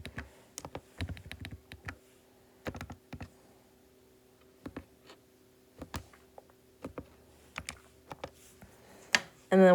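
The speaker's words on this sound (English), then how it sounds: "This piece I'm going to type in the calculator." Keys tapped on a calculator while working a projectile-motion problem, a series of short, quiet clicks in irregular bursts with pauses between, close up and without speech.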